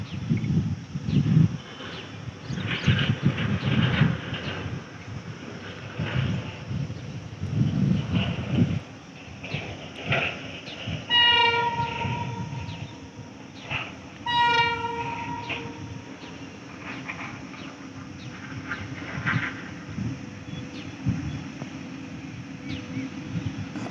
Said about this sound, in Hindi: वेब 5 गाज़ियाबाद वेब 5 लोकोमोटिव के साथ आ रही है और ये धीरे धीरे अपनी स्पीड बढ़ाएगी